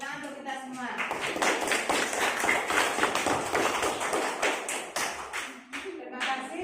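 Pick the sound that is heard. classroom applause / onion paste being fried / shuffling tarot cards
classroom applause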